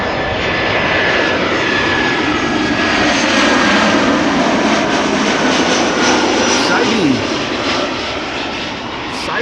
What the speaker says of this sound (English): This is Lufty flight 988 arriving from Frankfurt. It's an A319 in the Star Alliance livery.